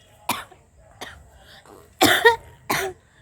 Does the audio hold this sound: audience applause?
no